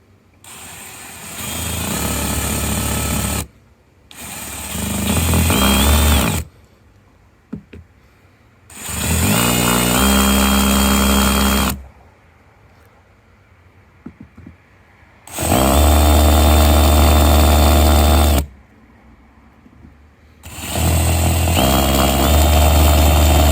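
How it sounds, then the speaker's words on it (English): A power drill with a countersink bit bores into the gel coat of a boat in four loud bursts of several seconds each. Each burst whines steadily, and quieter handling noise fills the pauses between them. "Next thing I'm gonna do is countersink the holes with a countersink bit"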